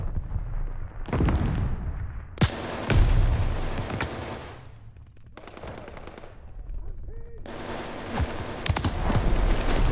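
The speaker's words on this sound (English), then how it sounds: "Throwing grenade." Grenade blasts and gunfire in a Call of Duty Vanguard multiplayer deathmatch on PS5: several loud, sharp detonations and bursts of shots scattered through the stretch, with brief lulls between them.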